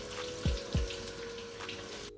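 Ginger root being washed under running water, with a steady splashing flow and a few louder splashes or drops at irregular moments, nearby and without talk.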